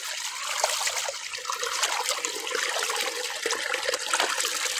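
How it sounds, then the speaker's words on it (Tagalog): Clear water streaming steadily from a mountain source into a rural water point, a continuous bright rushing trickle heard up close, alone and without talk. "tignan mo ang ating tubig dito"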